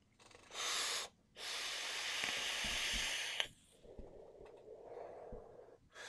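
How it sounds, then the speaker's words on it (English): A Hannya postless RDA being vaped: two long, steady airy inhales draw through the atomizer, separated by a short pause, followed by a softer exhale of breath, close and fairly quiet. "So let me go and take a quick vape."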